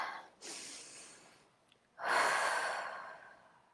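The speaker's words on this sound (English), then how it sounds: "take a deep breath" A deep breath is drawn in and then slowly released during a calming tapping session, with a soft inhale followed by a longer, louder exhale, close and breathy with no talking.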